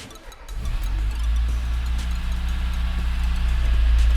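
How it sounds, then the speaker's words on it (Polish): A car engine starts after an oil change, filter change and engine flush. It catches quickly and settles into a steady, close, low idle rumble that grows slightly louder. "Dobra, idę odpalać furę."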